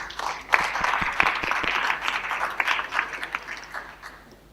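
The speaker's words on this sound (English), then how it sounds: "please give a round of applause" Conference audience applauding a speaker walking onto the stage at a blockchain event, a moderate wash of clapping with a few sharp individual claps standing out, tapering toward the end.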